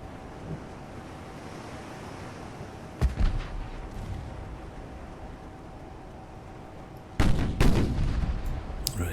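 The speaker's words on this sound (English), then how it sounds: "Good hit straight away from the main armament" Warship main guns firing in Ultimate Admiral: Dreadnoughts, two loud booming salvos a few seconds apart that roll out into rumbling decay over a steady backdrop of sea and wind.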